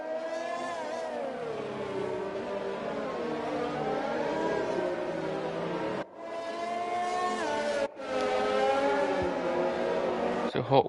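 Engines of F1 cars in a racing game idling and revving on the grid in Azerbaijan, a dense layered drone of many cars with rising and falling pitch, two brief dropouts partway through.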